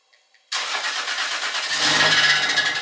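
A Toyota 2JZ engine being started: after a faint moment of near-silence, a loud starter crank catches abruptly and settles into a steady, rough idle that holds to the end.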